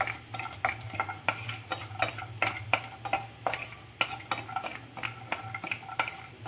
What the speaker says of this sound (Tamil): இதே நெய்யில் நம்ம ரவையும் வறுக்க போகிறோம்.